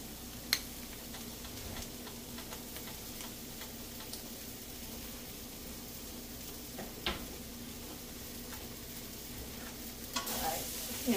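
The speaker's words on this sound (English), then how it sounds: "And I'm gonna add some sun-dried tomatoes to this" Sun-dried tomatoes cooking in a cashew cream sauce in a pan on the stove, a steady soft sizzle and bubbling with a few faint clicks and stirring taps.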